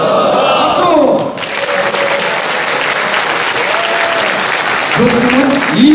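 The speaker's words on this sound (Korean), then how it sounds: "박수!" A lecture audience bursts into loud, dense applause that runs for several seconds, with a speaker's voice heard just before it starts and again as it continues at the end.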